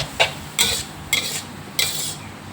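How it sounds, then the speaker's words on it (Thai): Glass noodles and chopped cabbage being stir-fried in a pan, giving four distinct scraping, stirring strokes at a steady pace, close and fairly loud, with no talking. "ผัดให้เข้ากันเลยนะคะ"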